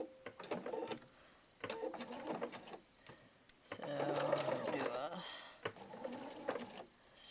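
A sewing machine stitching a folded seam on parasol cover fabric, several whirring runs of fast rhythmic needle strokes separated by short pauses, close and moderate in level, with talk between bursts.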